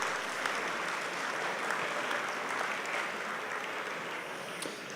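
Applause fills a room at an aviation hall of fame ceremony dinner, a steady wash of clapping from a large audience heard at a moderate distance for several seconds.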